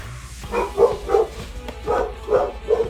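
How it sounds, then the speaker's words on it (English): A house dog barks when someone comes home: about seven short, fairly close barks in an uneven rhythm, standing out against a quiet room. "they like to bark when somebody comes home"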